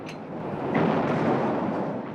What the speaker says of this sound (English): the guns of 200 Allied warships began their bombardment